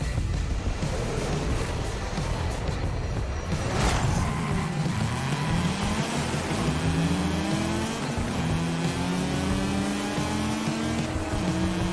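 Cars drag racing in a video game, NFS Heat or Forza Horizon: a steady loud engine roar rising in pitch through the gears, constant throughout with no talking.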